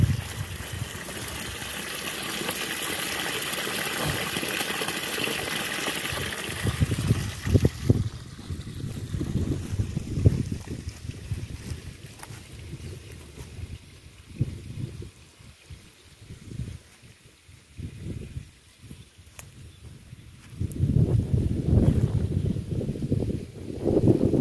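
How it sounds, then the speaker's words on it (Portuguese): Water rushes strongly into a fish tank on a rural farm property, a continuous gushing roar mixed with wind buffeting the microphone, rising and falling in loudness and swelling again near the end. "Olha o barulho da água."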